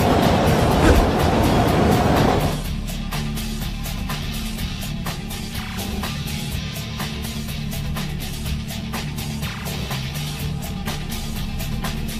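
Cartoon sound effect of a subway train running: a loud rushing burst at first, then a steady rumbling roll with regular clickety-clack wheel beats throughout, no voices.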